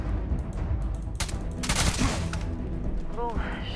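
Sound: enemy gunfire in the video game Starfield

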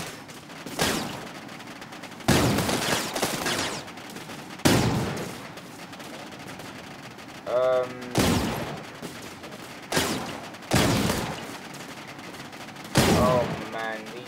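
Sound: double rail guns firing in the video game TerraTech

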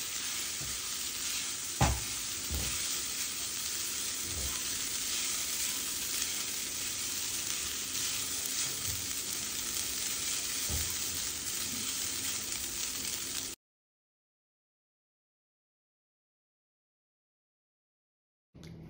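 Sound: stirring poha in a kadhai

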